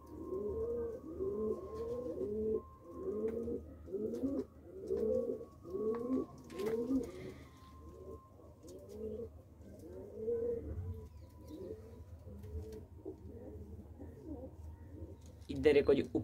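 Pigeons cooing inside a loft, a run of repeated rhythmic coos close by, fairly quiet overall, with a voice talking at times and a brief louder flutter at the end.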